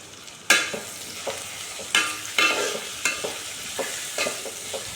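Onions fry in a pan for an egg curry and are stirred now and then. A steady, close sizzle is broken by several sharp scraping stirs, with no talking.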